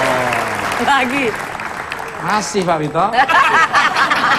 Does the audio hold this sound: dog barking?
no